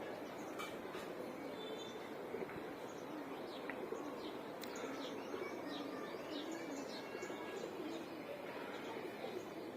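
Pigeons coo softly amid steady background noise while male birds are let out to fly, the cooing faint and intermittent over a continuous wash that resembles a passing train.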